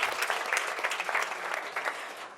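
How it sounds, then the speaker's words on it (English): Warm audience applause at a book launch, a dense steady clatter of many hands clapping throughout, fairly loud and close, tapering slightly at the end. "Please give Professor McFadden a warm round of applause."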